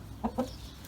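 Brahma chickens and roosters give two short, close clucks in quick succession, then fall quiet.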